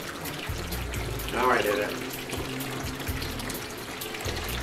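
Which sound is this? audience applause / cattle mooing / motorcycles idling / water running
water running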